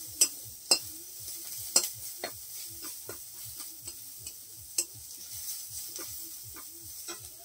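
Sliced onions frying in oil for a fish and potato curry, stirred with a spatula that scrapes and knocks the pan in a steady rhythm over a soft close sizzle.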